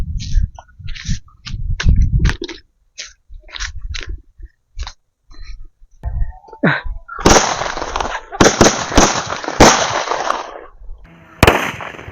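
Laxmi bomb firecrackers from Sivakasi burst outdoors in an irregular series of sharp, loud bangs, some crackling and hissing after they go off, with short quiet gaps between them.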